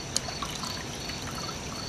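Water trickles softly and steadily as it is poured into a container holding an egg embryo, a faint, close, continuous flow without talk.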